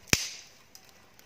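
Firewood catching in an outdoor stove set up at a home's doorstep for cooking sweet pongal gives one sharp, loud crackling pop, followed by faint scattered snaps that die away.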